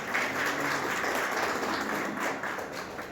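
A brief burst of soft, fairly distant audience clapping fills a hall during a Central Bank of India loan awareness event with a rice mill association.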